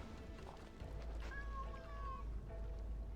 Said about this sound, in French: Quel gentil chat.